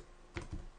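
A few soft keystrokes on a computer keyboard, two quick faint taps close together.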